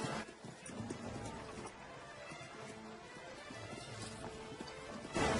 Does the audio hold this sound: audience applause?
no